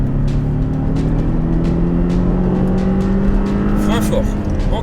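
A Porsche Cayman accelerates hard on a race circuit, its engine note climbing smoothly and steadily at close range. The sound is loud and continuous, with road and wind roar underneath.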